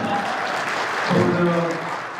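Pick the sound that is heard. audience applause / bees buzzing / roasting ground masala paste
audience applause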